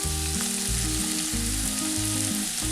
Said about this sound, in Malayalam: ഗ്രേവിക്ക് വേണ്ടിയിട്ട് ഞാൻ എടുത്തേക്കണം ബീഫ് വേവിച്ച വെള്ളം തന്നെയാണ് കേട്ടോ